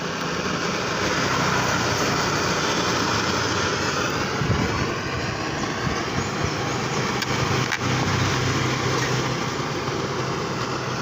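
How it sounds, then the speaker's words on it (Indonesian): A gas torch roars steadily while heating a soldering iron used to mend a cracked plastic body panel on a Honda Vario motorcycle; the loud, continuous hiss-roar holds throughout with no talk. "ini kita nyalakan dulu gas yang ini untuk membakar solder bakarnya ini"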